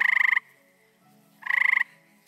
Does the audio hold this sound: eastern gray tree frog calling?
yes